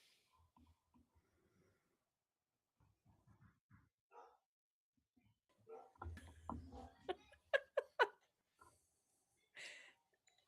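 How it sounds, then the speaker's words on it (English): A dog barks a few times in quick, sharp bursts, quiet and somewhat distant, after scattered soft voices and small movement sounds, with a snort or whimper near the end. "He hears the dogs barking."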